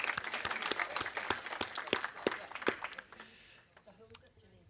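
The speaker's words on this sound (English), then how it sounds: "let's hear a round of applause for Steve's appointment" Audience applause at a dog club's annual conference of delegates, a dense burst of many hands clapping that is loud at first, then thins out and fades toward the end.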